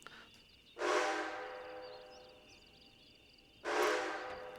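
A video game train whistle sounds in two long, loud blasts separated by a few seconds of quiet hum, each blast a bright sustained tone that cuts off sharply.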